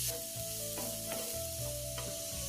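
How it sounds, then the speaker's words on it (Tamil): Grated coconut roasting in a pan for a Kumari-style country chicken bone broth curry, with steady sizzling and the repeated scrape of a spoon stirring against the pan, close and continuous. "தேங்காய் கொஞ்சம் வறுபடணும்"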